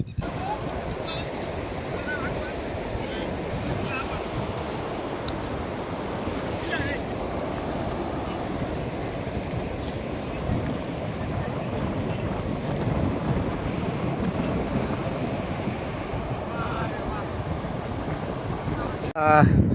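Strong floodwater rushing through an area with fallen electric power poles: a steady, loud broadband roar of flowing water mixed with wind buffeting the microphone, continuous for the whole stretch.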